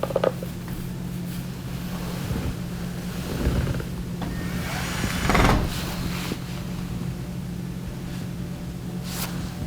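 A clothes dryer drum turns after its slipped-off belt has been put back on, giving a steady low motor hum with a broad rushing whir and a couple of brief swells, heard alone.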